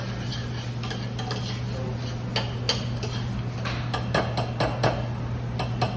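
Arborio rice toasting in bacon fat and oil for a sausage, bacon and pea risotto, stirred with a utensil that clicks and scrapes against the pot in irregular taps over a steady hum.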